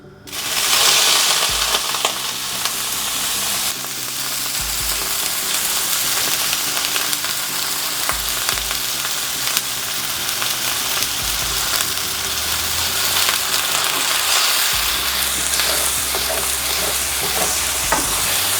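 Smoked meat sauce frying and sizzling in a pan, a steady loud sizzle with stirring and scraping throughout, no talk.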